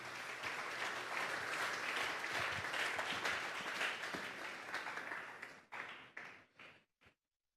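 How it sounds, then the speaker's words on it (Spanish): A church congregation gives strong applause at a night service, a full wash of clapping that holds steady and then thins into a few scattered final claps before stopping. "Dale un fuerte aplauso pues al Señor esta noche."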